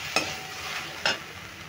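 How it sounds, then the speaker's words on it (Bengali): Spices with cumin powder being stirred in a hot pan: a soft continuous sizzle broken by two distinct scraping strokes, close by, with no talking. "দিয়ে দিচ্ছি জিরের গুঁড়ো। এবার এগুলো আমি নেড়ে চেড়ে নেব।"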